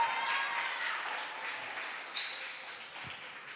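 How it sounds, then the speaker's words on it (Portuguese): Church congregation applause for a woman pastor: a steady wash of clapping holds throughout, with a thin high whistle cutting in over it near the end. "você pode aplaudir o Senhor pela vida da pastora."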